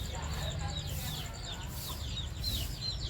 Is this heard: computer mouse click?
no